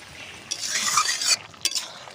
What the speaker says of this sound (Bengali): ফুটে গেছে পেঁপের ঝোলটা